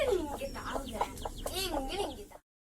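A hen and her chicks cluck and cheep close by in a green village yard, with short rising and falling calls and a few soft voices mixed in.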